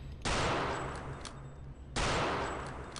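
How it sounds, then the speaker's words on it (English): Mauser rifle fire in the video game Return to Castle Wolfenstein: two loud, sharp shots about 1.7 seconds apart, each with a long sustained reverberant tail. "How many Mauser shots y'all think it takes?"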